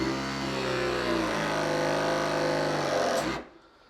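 A battery press tool crimps a copper pipe fitting on a bathroom shower valve, running as a steady loud motorized whine for about three seconds before cutting off abruptly.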